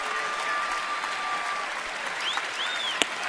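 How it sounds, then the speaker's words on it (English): A baseball crowd at a Cubs-Nationals game claps steadily for a third out in the seventh inning, a broad, sustained wash of applause with a few whistles cutting through near the end. "Crowd clapping for a 3rd out here in the 7th."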